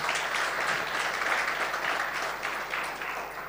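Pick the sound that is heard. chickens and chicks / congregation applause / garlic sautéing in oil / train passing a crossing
congregation applause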